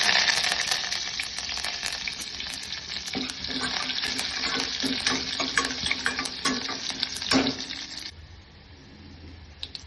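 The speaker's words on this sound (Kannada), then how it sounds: "ಸಾಸಿವೆ ಜೀರಿಗೆ ಸಿಡಿದ್ಮೇಲೆ ಬೆಳ್ಳುಳ್ಳಿ, ಕರಿಬೇವು ಹಾಕೊಳ್ಳಿ" Garlic and curry leaves sizzle and crackle steadily in hot tempering oil, a dense close frying hiss with scattered pops throughout, easing slightly near the end; no one speaks.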